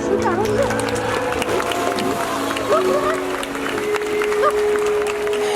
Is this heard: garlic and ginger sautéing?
no